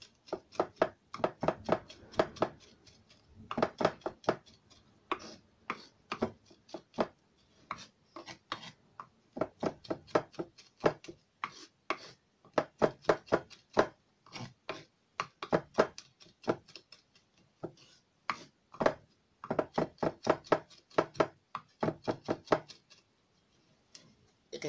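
A knife chops curry soup ingredients by hand on a board, making a long run of quick, crisp taps in rapid bursts. The bursts are split by short pauses, close up and fairly soft.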